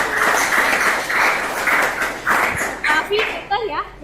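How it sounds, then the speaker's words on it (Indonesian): Classroom of students clapping together for a classmate's answer in a maths lesson, a dense, fairly loud burst of many hands that comes in waves and thins toward the end. "Tepuk tangan dong buat pendapat"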